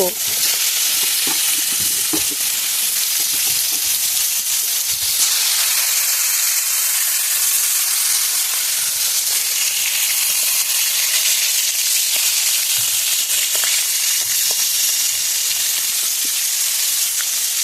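Chital fish frying in hot oil, a loud, close, continuous hissing sizzle with occasional crackles and spatters that persists evenly throughout.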